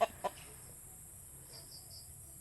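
Chickens in a pen on a rural farm lot give two quick clucks near the start, then the pen falls to faint background ambience.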